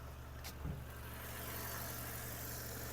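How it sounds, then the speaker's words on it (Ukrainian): A Volkswagen Caddy 1.6 MPI engine idles steadily with a low, even hum, accompanied by a brief soft thud near the start and a faint hiss throughout. "робота двигуна."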